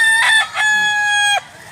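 Near and clear, a single rooster gives one full crow in a Cebu village setting, rising in a few bursts before a long held note that breaks off sharply.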